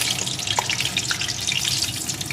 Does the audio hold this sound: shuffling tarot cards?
no